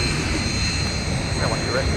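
A business jet, an Embraer Phenom or Praetor, at Minneapolis–Saint Paul airport: a steady, loud engine roar with a high whine that fills the clip, with radio-style talk partly mixed in.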